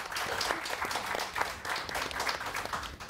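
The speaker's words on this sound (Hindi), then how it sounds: "तालियां इनके लिए बहुत सारी।" Studio audience applause on a morning television show, brisk continuous clapping from a small crowd heard fairly close for a few seconds with no talking over it.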